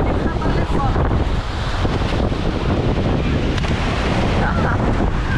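Atlantic Ocean waves at Achakar beach near Tangier, a loud continuous roar of surf mixed with heavy wind buffeting the microphone, with no voices.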